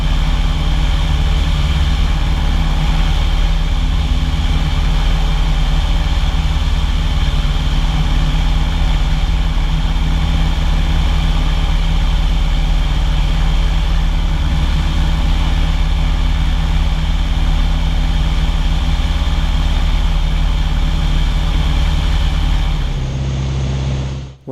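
Light aircraft G-AKVZ flying in level cruise, its piston engine giving a loud, steady drone with constant tonal hum throughout, cutting off abruptly at the very end.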